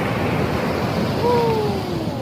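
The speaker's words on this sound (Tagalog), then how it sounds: "Parang galit na galit yung dagat. Grabe. Ayan, oh. Malakas ang alon." Strong sea waves churn at the shore, a steady loud wash of surf with wind noise across the microphone and no pauses, lasting a couple of seconds.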